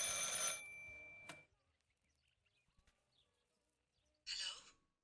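Ringing telephone in the video game Martha is Dead, a bright bell-like ring that cuts off, quiet pause, then another short burst of ringing.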